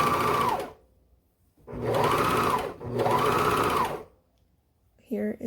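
A sewing machine stitches through three fabric layers of a doll romper, running in three steady bursts of close mechanical whirring separated by pauses, with a brief voice at the very end.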